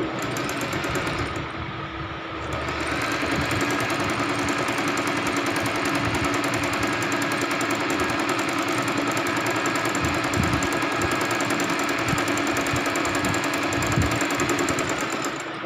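A sewing machine stitches the sleeve of a kurti, giving a loud, steady mechanical whirring and rattling that runs almost unbroken from start to finish with no talk.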